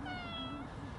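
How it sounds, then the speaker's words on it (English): A cat on a cold street in Kyiv gives a single clear meow, close by, with a rising and falling tone and no talking over it. "Now this cat looks very healthy, huh? Very fat."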